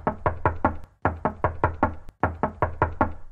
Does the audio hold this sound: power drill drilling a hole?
no